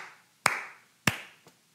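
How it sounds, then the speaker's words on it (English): Slow, deliberate handclapping from one person, with two sharp, close claps about half a second apart and a fainter third tap after them, each decaying into silence. "Slow clap."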